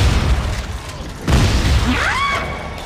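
A nearby explosion in the Dead Space 3 co-op game lands as one heavy boom mid-clip over a dense, loud rumbling background, followed by a brief rising synthetic whine.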